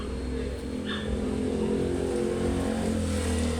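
Motorcycles passing on a street outside a home where tulle fabric is being ironed, a steady droning engine rumble that swells slightly as a bike goes by, with a brief higher chirp early on.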